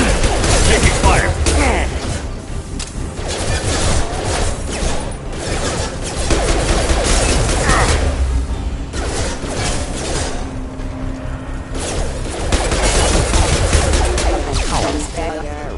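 Video game firefight with dense, continuous gunfire and bursts of crashing impacts, loud and close, mixed with combat radio chatter.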